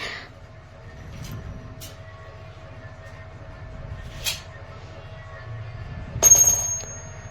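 Low rumbling of a train rolling along rails, steady and rhythmic from inside a carriage, with occasional clicks and a brief electronic tone near the end.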